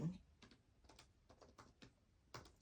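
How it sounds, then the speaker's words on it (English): Soft, irregular tapping of keys on a computer keyboard, quiet and close, with scattered clicks at an uneven typing pace. "You can hear me typing away"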